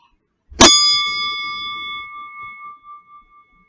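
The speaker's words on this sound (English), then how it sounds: "I'm going to ring our bell, and then when the bell comes to an end" A single meditation bell struck once, ringing out with a clear sustained tone that slowly fades over several seconds, alone in quiet.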